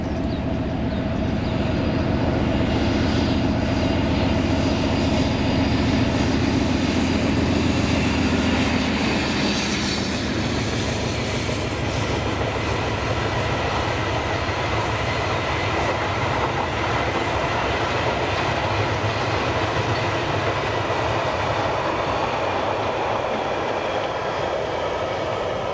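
Class 56 locomotive 56049 hauls a freight drainage train from Doncaster Up Decoy to Millerhill in Scotland. It gives a continuous loud diesel rumble with rolling wheel noise, and a high tone fades partway through.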